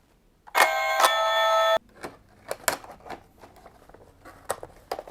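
A Halloween novelty doorbell sounds a loud bright chime-like tone lasting about a second, followed by softer clicks, taps and handling noises close by.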